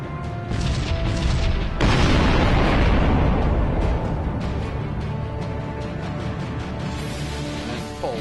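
Space-combat ordnance in the Sunrider game launches and strikes an enemy ship, a loud sustained roaring blast with rumbling debris that swells after a short lead-in and slowly fades, with no talk over it.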